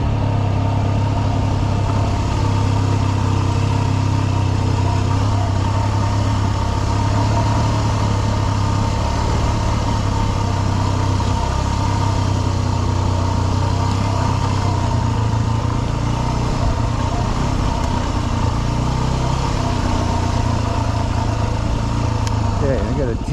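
A dirt bike's engine drones steadily as it engine-brakes down the rough descent from Imogene Pass toward Telluride, a constant close mid-pitched hum with wind noise and a rider talking over it.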